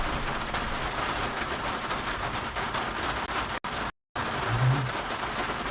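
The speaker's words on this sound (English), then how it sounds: "the rain with ice can be interesting" Freezing rain mixed with ice comes down in a close, steady patter and hiss that cuts out briefly in the middle.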